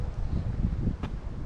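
Wind gusts across an exposed hilltop on the Bibbulmun Track in winter, a steady low buffeting rumble against the microphone with no one speaking.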